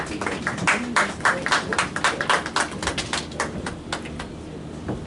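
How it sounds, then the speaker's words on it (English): A small audience claps at a football league launch event to welcome a sports ministry advisor. The clapping is sparse and uneven, with individual sharp claps rather than a dense roar, and it holds fairly steady for several seconds before thinning out. "Give him a round of applause to make him feel welcome."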